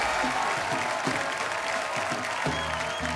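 A studio audience at the Indian comedy talk show The Kapil Sharma Show breaks into loud, dense, sustained applause throughout.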